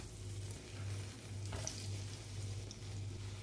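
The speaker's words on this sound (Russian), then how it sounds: "На сковородку в разогретое масло укладываю по 1 столовой ложке теста на расстоянии друг от друга." Spoonfuls of kefir pancake batter with green onion, egg and rice sizzle in hot oil in a frying pan, a steady close crackle running unbroken with no voices.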